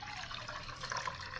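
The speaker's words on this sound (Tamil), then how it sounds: "தண்ணி வேணுங்கிற அளவுக்கு ஊற்றி" Water poured into a pan while making kollu (horse gram) rasam in a kitchen, a steady soft splashing and trickling stream lasting throughout, fairly quiet and without speech.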